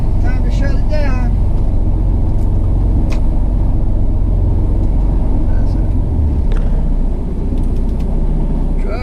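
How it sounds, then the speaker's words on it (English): A truck's engine runs steadily on heavy equipment, a loud, even low rumble that holds for the full stretch, with brief voice-like sounds over it early on. "Truck is running good."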